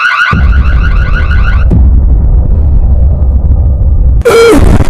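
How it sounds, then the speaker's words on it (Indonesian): A villa security alarm blares, a loud pulsing electronic tone over a heavy rumbling roar, then cuts out to a low droning hum before a harsh shrieking burst hits at the end, very loud and close. "Claire mencoba menghubungi polisi lewat alarm keamanan"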